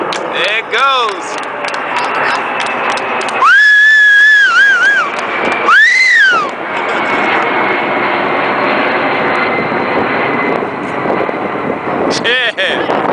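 Space Shuttle Discovery on its final fly-by in April 2012, carried overhead with an escort jet: a loud, sustained aircraft engine roar that swells and fades, with whistling jet tones rising and falling, under excited spectators talking and cheering nearby.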